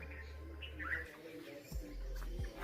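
Birds chirp and call in the open grounds of a Mahadev temple, a few short light tweets and a dove-like coo over low rumbling background noise, with someone talking briefly.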